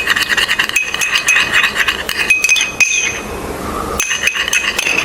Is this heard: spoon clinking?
yes